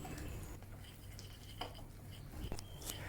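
Quiet scraping and clinking of a utensil stirring thick, sticky wheat starch dough mixed with hot water in a bowl, with soft irregular taps over a low background hum.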